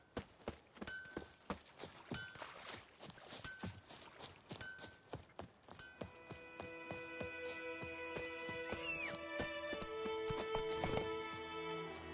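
A horse in the video game The Witcher 3: Wild Hunt trots with steady rhythmic clip-clop hoofbeats, fairly close and clear, first on their own and then under a swelling game music score.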